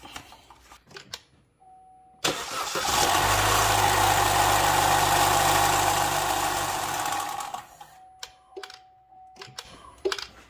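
Quiet clicks, then the 1.4L turbo engine of a 2011-2019 Chevy Cruze cranks and catches, running loudly for several seconds before shutting off, leaving faint handling noises.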